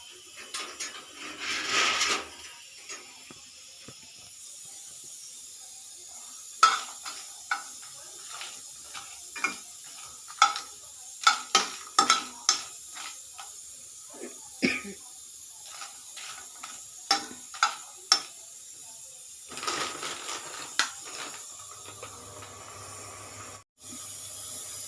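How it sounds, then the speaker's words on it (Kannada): Dried red chillies dry-frying in a hot pan give scattered sharp crackles and pops over a faint sizzle, with a few denser bursts of hiss. "ಒಂದು ಬಾಣಲಿ ಇಟ್ಟು ಕಾದ ನಂತರ ಒಣಮೆಣಸಿನ್ಕಾಯಿ ಹುರ್ಕೋಬೇಕೆಲ್ಲ"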